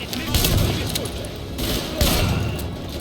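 Explosions and rapid gunfire fill a bank firefight in Tom Clancy's The Division on PC. Dense bursts of shots and booming blasts come in clustered waves, with a voice faintly present underneath.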